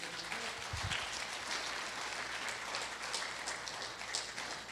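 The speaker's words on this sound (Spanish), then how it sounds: "¿Cuántos dan un aplauso fuerte en esta mañana por eso?" A church congregation claps during a morning sermon, a faint, even wash of many hands patting steadily for several seconds, heard from some distance with no voices over it.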